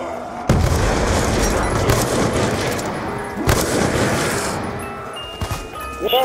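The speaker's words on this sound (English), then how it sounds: "Yes, I got a grenade launcher." A grenade launcher fires in a zombie video game, heavy booming blasts at the start and midway with rumbling explosive tails between them and crackling bursts near the end, voices faintly underneath.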